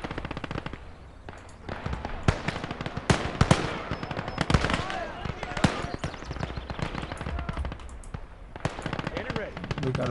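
A Browning machine gun in the World War II game Gates of Hell fires in rapid bursts of loud, crackling shots, mixed with other scattered gunfire across a busy battlefield. A voice talks over the shooting.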